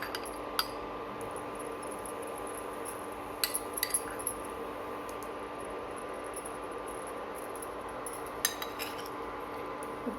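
A spoon adds rasam powder into a pot for tomato rasam. A few light metallic clinks and taps are scattered over a quiet kitchen hum.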